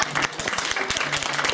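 Audience at a live games festival session giving a round of applause, lively close-up clapping with distinct individual claps in quick irregular rhythm, loud and brief.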